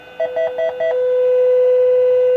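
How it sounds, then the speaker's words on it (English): A Bogen UTI1 intercom phone running from a car power inverter gives four quick electronic beeps, then a steady tone that holds alone and clear. "beeping's coming from this"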